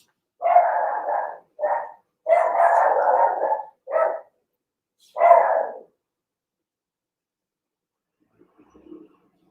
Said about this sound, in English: And cue the dog.